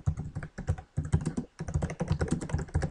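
Quick typing on a computer keyboard while entering a search, with steady bursts of clicking keystrokes broken by short pauses, close and fairly loud with no talking.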